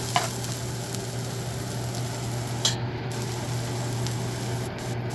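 Onions frying in a pan, a steady close sizzle with occasional scrapes and clinks as they are stirred, alone without talk.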